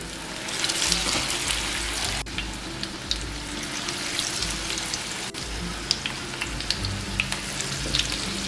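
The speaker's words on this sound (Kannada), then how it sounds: "ಈಗ ಇದನ್ನ ಮೀಡಿಯಂ ಉರಿಯಲ್ಲಿ ಬೇಯಿಸಕ್ಕೆ ಬಿಡೋಣ" Sweet corn vada frying in hot oil over medium heat, a dense, steady crackling sizzle that runs close and loud throughout with no voices.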